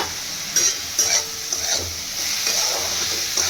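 Onion, capsicum and chili sizzle in a hot pan while being stirred, a steady frying hiss broken by several scraping stirs, close and fairly loud with no talk.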